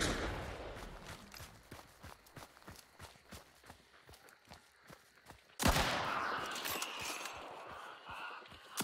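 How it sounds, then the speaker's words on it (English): In the video game Hunt: Showdown, soft running footsteps patter quickly before a single loud, sharp shot from the Big Bertha rings out and echoes. "Just trying to see if I shoot at them while they come out."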